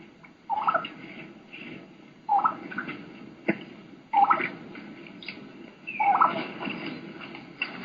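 Young hen turkeys in leaf litter give a key run, a whistled call sliding straight into a yelp, repeated about four times at moderate distance over a low rustling background.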